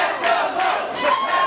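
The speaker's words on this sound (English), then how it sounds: "And listen to the crowd." A wrestling arena crowd roars and cheers for a hometown wrestler, a loud continuous swell of many voices with rising shouts.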